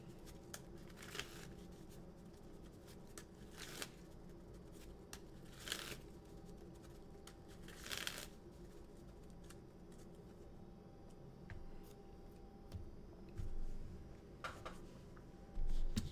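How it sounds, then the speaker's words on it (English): A deck of playing cards is shuffled quietly and close up, with brief riffle bursts spaced a couple of seconds apart over a low steady background and soft card handling between them. "I also am relaxed by shuffling"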